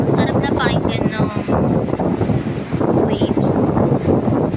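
Strong wind on a beach buffets the microphone with a loud, continuous roar, while waves wash faintly beneath it.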